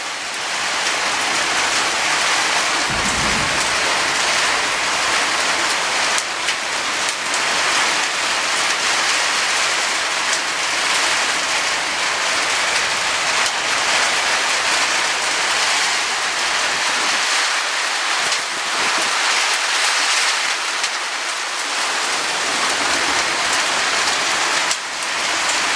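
Hail pounding on a roof during a Florida storm, a dense, steady hiss of many impacts that goes on without a break for the whole stretch, loud and close.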